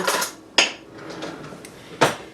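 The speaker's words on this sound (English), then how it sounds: "Let me get a spoon." A spoon is fetched from the cutlery in a home kitchen while fried eggs are being made: a soft metallic rattle, then two sharp close clinks spaced about a second and a half apart.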